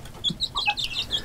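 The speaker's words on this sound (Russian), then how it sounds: "Это у меня тоже любимая курочка, она очень ручная" A tame hen in a village poultry house gives a brief run of soft clucks and high chirpy calls, close by, over faint background noise.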